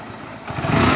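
An engine idling just after being started during an oil change: a steady low rumble that swells slightly louder in the second half, with no talking.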